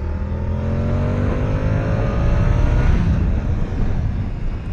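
Moto Guzzi V100 Mandello motorcycle engine accelerating hard, a loud continuous rising drone with sweeping engine harmonics and heavy rumble, close and steady throughout without talk.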